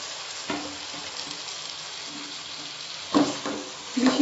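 Ghee-fried chicken sizzles steadily in a pan of masala for a chicken nihari, with a few stirring scrapes and a louder burst of frying near the end, no talk.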